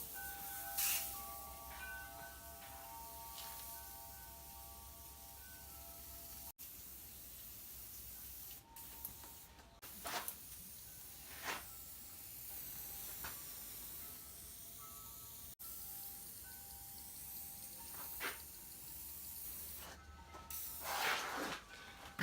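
WD-40 cleaner is sprayed onto the cast top of a Grizzly G0715P 10-inch hybrid table saw, heard as faint, intermittent short hissing spritzes over a quiet background.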